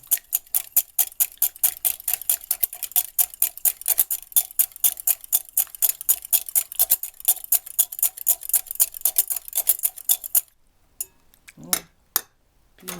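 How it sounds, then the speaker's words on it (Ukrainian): Egg white whisked by hand in a bowl makes rapid, evenly spaced metallic ticks and clinks for about ten seconds, loud and close, then stops and leaves a few scattered taps and handling noises. "Білок я збиваю. Трошки його розмішати, щоб вона пінка появилася."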